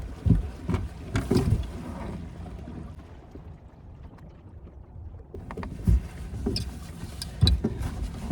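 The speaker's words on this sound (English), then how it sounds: "And this engine sounds like it wants to die." An outboard engine on a small fishing boat on Lake Calaveras, with a fuel system that keeps losing its prime, rumbles and sputters unevenly, surging and fading between rougher bursts, with no voices.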